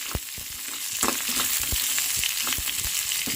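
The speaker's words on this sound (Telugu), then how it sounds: "టమాటా అలాగే ఉల్లిపాయ పచ్చిమిర్చి అయితే ఫ్రై చేసేసుకున్నాం కొంచెం ఆయిల్ పోసుకున్నాం ఆయిల్లో లైట్గా ఫ్రై చేసుకున్నాం" Tomato, onion and green chili fry lightly in a little oil, giving a soft, steady sizzle broken by repeated spatula taps and scrapes in an uneven rhythm, close and without speech.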